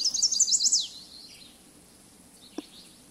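A chestnut-sided warbler sings near a boardwalk, a bright, rapid series of high chirping notes ending in a quick flourish, loud and close, then a quiet stretch with one small knock.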